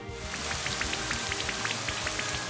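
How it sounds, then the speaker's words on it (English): Rain starting in the Pokémon Brilliant Diamond video game, with a steady synthetic patter of falling raindrops under looping background music and no talk. "Oh, it started to rain, okay."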